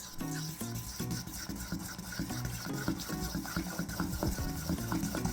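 Flour being folded into wet batter ingredients for homemade waffles makes soft, steady scraping and stirring strokes in a repeated rhythm, close and fairly quiet.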